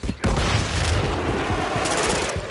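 A flashbang grenade going off in the shooter MW3, a loud close burst followed by a sustained roaring wash of noise with distant gunfire crackle, briefly dipping before resuming.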